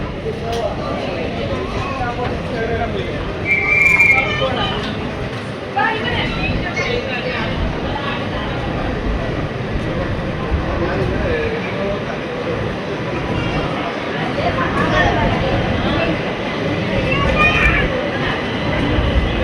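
The Kannur–SMVT Bangalore Express pulls out of Kannur station, a steady rolling rumble of railcars with a couple of short high squeals, under continuous platform crowd babble.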